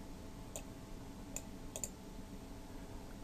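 A few sharp, isolated computer mouse clicks while editing a web page layout, spaced irregularly over a quiet room background with no talking.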